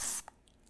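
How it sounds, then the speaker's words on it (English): Sunscreen sprayed from an aerosol can, a short close hiss lasting a fraction of a second and then cutting off, followed by near silence. "this is just the same kind of sunscreen, but this is in a spray"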